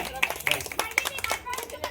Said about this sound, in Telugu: సెకండ్ ప్రైజ్ క్లాప్స్ కొట్టండి